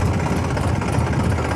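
Massey Ferguson 7250 tractor engine running, a steady, dense low rumble at moderate loudness with no break or change.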